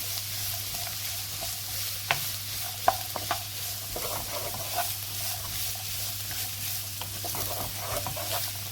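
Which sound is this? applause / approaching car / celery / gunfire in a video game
celery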